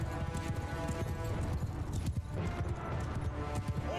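In the medieval battle game Mount & Blade II: Bannerlord, many horse archers' horses gallop at once, producing dense overlapping hoofbeats over a loud battlefield din, continuous throughout.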